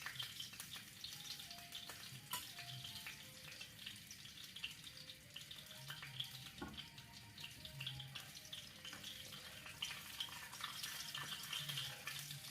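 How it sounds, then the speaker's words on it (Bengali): Panch phoron spices with broken bay leaf sizzle steadily in hot oil in a pan, a continuous close frying hiss with occasional stirring clinks. "5 ফোড়নটা ভাজা ভাজা হয়ে গেলে"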